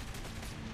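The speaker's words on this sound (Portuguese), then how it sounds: "Atirar na janela." A gunshot fired at a window in the video game Saints Row: The Third, a short, dense burst of blast and crack that fills the moment, loud and close.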